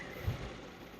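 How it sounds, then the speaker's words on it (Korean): A Genesis G80 3.3 GDi AWD engine idles with a low, steady rumble and a constant background drone, no revving. "엔진 소리 상태 보시는 것처럼 뭐 시끄럽고 세다 그러는 거 전혀 없이"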